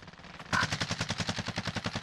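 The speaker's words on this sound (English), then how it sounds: "Shooting out this window on me." Rapid automatic gunfire in the shooter game Warzone, a burst of evenly spaced sharp shots fired close and loud, with a quieter stretch before it and no talking.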